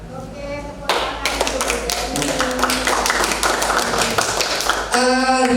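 A group of people claps hands in a fast, rhythmic patterned reward clap during a school teachers' session, loud and close for about four seconds, with a voice speaking just before and after.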